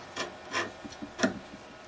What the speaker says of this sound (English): I clean the slots of the grease and the grime.